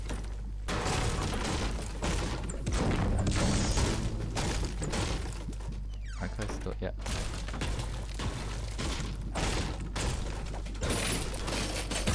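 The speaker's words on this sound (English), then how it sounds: "Destroy the inside of the house." Inside of a house being smashed apart in the Fortnite video game, with loud, dense crashing, thudding and shattering impacts piling up almost continuously, easing briefly partway through.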